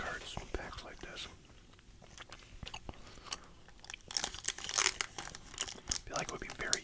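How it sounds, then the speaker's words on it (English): Crinkling and tearing of a Halloween football card foil pack happens close to the mic under soft whispering, building to denser crackly rips near the end. "I've never opened either Pokemon or sports cards packs like this."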